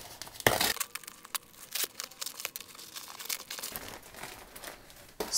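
Plastic packaging crinkles and tears up close as a 2000 W pure sine inverter is unpacked, with a loud rip at the start followed by an irregular stream of crackling rustles.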